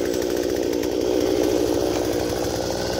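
An 18-inch chainsaw bucks a huge oak trunk about 38 inches across, its engine snarling loud and steady under load, close by with no letup.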